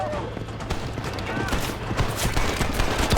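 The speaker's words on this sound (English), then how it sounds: "Stop shooting at me!" Gunfire during a shootout in the video game Red Dead Redemption, a dense rattle of repeated shots under shouted voices with horse hooves clopping in the mix.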